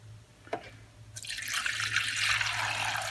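Water poured into a container for cleaning tools, starting with a faint drip and then becoming a steady, loud, close rushing stream that continues to the end.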